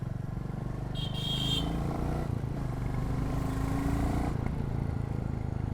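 A Royal Enfield Goan Classic 350 motorcycle ridden on the road in Goa, its engine droning loud and constant up close with steady wind rush and a brief higher whine partway through.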